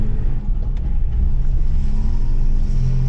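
A 1984 Volvo 244 diesel with 555,000 km cruises on a highway, its engine a steady low drone and rumble heard from inside the cabin, loud and continuous with no talking.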